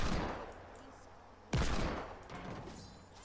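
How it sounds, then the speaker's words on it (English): Video game gunfire in a hide and seek match: a sudden loud burst of shots hits mid-clip over steady game background noise and keeps rattling on for a second or two, with no voice heard. "I was shooting at the other bush"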